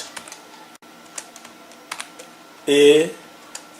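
Keys clack on a computer keyboard in scattered, irregular taps while HTML is being typed, close and fairly crisp, with a short burst of speech breaking in partway through.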